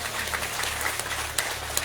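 Audience applause at a Bhagwat Katha religious discourse, a steady wash of many hands clapping at moderate distance throughout, with a low hum underneath and no voices.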